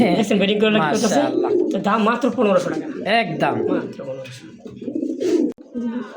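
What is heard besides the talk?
pigeons cooing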